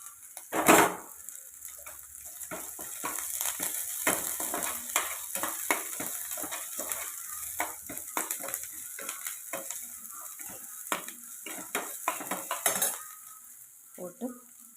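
Ginger and curry leaves sizzle and fry in a hot pan, with metal spoon scrapes and stirring clatter over a constant close crackle, and no one speaking.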